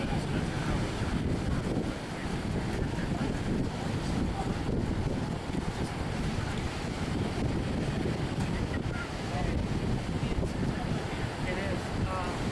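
Hurricane Earl's strong wind roaring and buffeting a microphone during a 2010 storm chase near the Outer Banks, a constant loud rush with surf-like noise, and occasional talking underneath.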